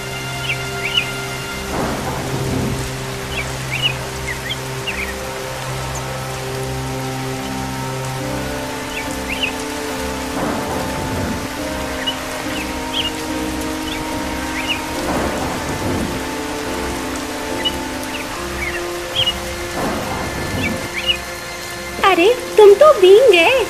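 Steady rain pours over a forest in a cartoon scene while thunder rumbles roll in at intervals, loud and close, over a sustained tonal backing that ends in a heavier burst.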